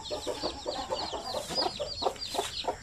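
Native Basilan chickens cluck in a quick, irregular series of short calls on a farm, several birds close by, with a soft background hum and no talk.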